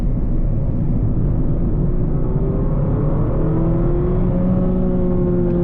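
Mazda MX-5 Miata ND driving a tight, twisty road, its engine note rising steadily under a constant loud road and tyre roar, close and continuous with no voices.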